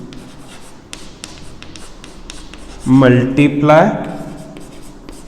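A pen or marker scratches out a line of handwriting on a board during a Class 9 maths lesson, a soft scratchy stroke sequence with a voice speaking loudly over part of it.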